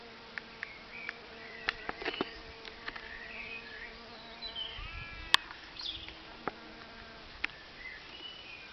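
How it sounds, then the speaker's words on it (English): Bumblebees buzz softly around nearby, their drones rising and fading as they pass, with occasional faint clicks and distant bird calls outdoors. "the sound of bumblebees that I think really resonates with human beings"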